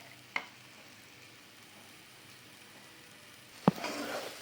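Thiruvathirai kali stirred with ghee in a pan, a soft low sizzle with a sharp utensil knock near the start and a louder scrape and clatter near the end, no talk.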